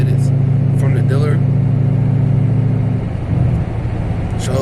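A widebody Dodge Challenger engine with failing lifters or a bad cam runs loud and close, a steady rough idle and drone that dips slightly near the end, with voices over it.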